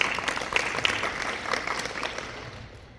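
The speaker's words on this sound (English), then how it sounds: "let's give him a round of applause" An audience at a live podcast event in Los Angeles claps in a steady, moderately loud round of applause that gradually tapers off.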